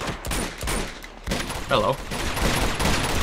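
Gunfire from an Uncharted 2: Among Thieves firefight, rapid bursts of shots and impacts crackling throughout, with a brief spoken word partway through.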